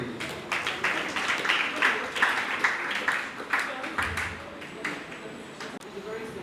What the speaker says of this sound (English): just give it a round of applause